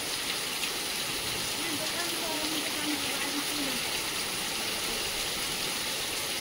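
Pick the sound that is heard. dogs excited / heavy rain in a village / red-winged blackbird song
heavy rain in a village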